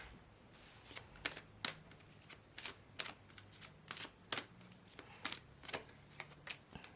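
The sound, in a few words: shuffling tarot cards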